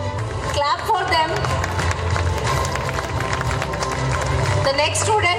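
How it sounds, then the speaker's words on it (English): Audience clapping at a school annual function prize distribution ceremony, a steady, dense wash of applause with crowd murmur running throughout. "Clap for them."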